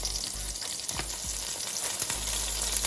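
A thin dulong (silver fish) omelette fries in a pan over medium heat, giving a loud, steady crackling sizzle with a few soft utensil scrapes and no talking.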